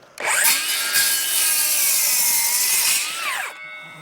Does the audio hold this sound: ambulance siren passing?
no